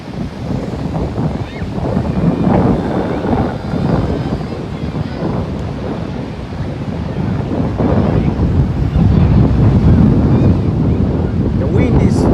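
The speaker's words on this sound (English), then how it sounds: "The wind is too much here at this beach." Strong wind at a Cape Town beach roars and buffets the microphone without a break, with the surf rumbling underneath. The sound is loud and close throughout, and a voice can be faintly heard talking within it.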